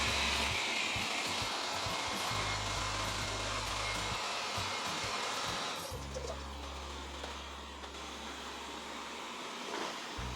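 A steady, droning motor hum with a whirring, airy whine from a Wyze robot vacuum running nearby on a tiled floor, shifting slightly in pitch partway through; no voices.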